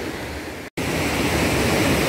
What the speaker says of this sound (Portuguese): subindo aqui a cachoeira do Escorrega